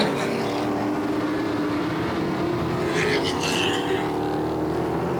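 Hot rod race cars roar around the Sunset Speedway oval in a continuous engine drone, with a brighter surge as a car passes, heard behind a race announcer's commentary.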